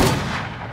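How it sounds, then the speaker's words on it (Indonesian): Loud, close gunfire during shooting practice in a film, a single dense booming shot with a rumbling decay filling the whole short moment, no talk over it. "Selesai latihan menembak,"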